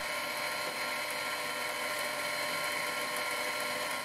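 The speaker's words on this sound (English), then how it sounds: "I then spotted the location with a starter drill." A starter drill spots a hole location in workpiece metal on a Proxxon PD 250/e lathe with a dividing head, making a faint, continuous high whirring grind throughout with no speech.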